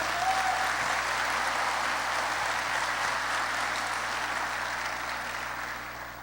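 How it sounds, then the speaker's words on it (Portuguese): A church congregation applauds steadily in a dense, sustained burst of clapping that fills the room and tapers off slightly at the end, with a low hum underneath. "Pode aplaudir ao Senhor."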